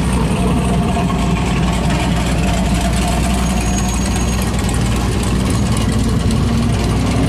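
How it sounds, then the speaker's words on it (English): A Chevy car's engine idles at an outdoor cruise night, a steady low rumble that stays loud and constant throughout, with no voices over it. "That is a good looking little Chevy. Sounds good, nice wheels."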